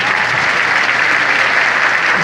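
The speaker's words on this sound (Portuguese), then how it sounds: "Pode aplaudir." A church congregation claps together in dense, steady applause, loud and unbroken from start to finish.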